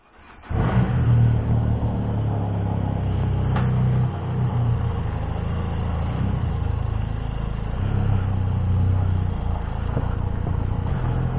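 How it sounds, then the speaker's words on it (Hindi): A Benelli Leoncino motorcycle starts rolling on its first ride, its engine rising quickly to a steady, close throbbing drone that holds throughout with small dips in pitch as the rider shifts. "and this will be my first ride on my new bike"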